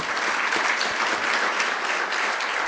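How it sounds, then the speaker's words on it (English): A crowd at a welcome reception at the University of San Diego gives a round of applause, a steady, even wash of many hands clapping at moderate volume. "So round of applause for both"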